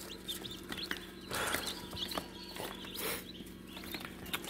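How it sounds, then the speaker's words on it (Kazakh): Newly hatched chicks and hens clucking close by under a warming lamp, a busy overlapping chorus of clucks and cheeping with short louder bursts throughout. "Бір 40-тан асты, 44 ба 43 басындай балапан шықты"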